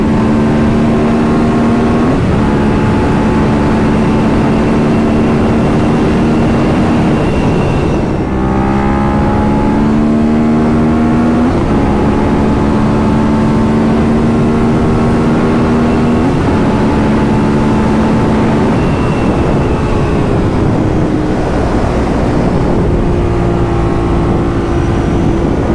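A car engine, heard from an onboard mount on a road near Ronciglione, revs loudly and climbs through gear after gear, each pitch rise cut by a brief dip at the shift, running continuously and close with no talk over it.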